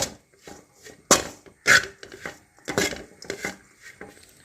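A spoon clatters and scrapes in a non-stick pan while a gram flour laddu mixture is stirred without oil, giving irregular knocks and scuffs with a few sharper bangs between quieter strokes.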